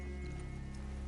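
Horses' hooves clip-clop at an easy walk in the video game Red Dead Redemption II, faint and low under a steady wash of ambient game sound.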